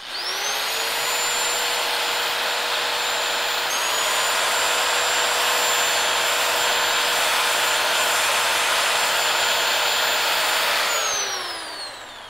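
A power sanding disc works across a wooden bowl with a steady, high, droning whine that holds for about ten seconds, shifts pitch slightly once, then spins down at the end.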